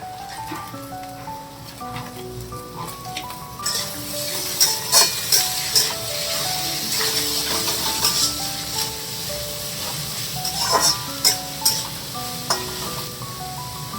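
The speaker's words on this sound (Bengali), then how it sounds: "এটা অনেকটা ভাজা ভাজা হয়ে এসেছে।" Carrots and other vegetables sizzling in a covered pan while frying for homemade fried rice, a steady close crackle with sharp pops and spits growing busier partway through.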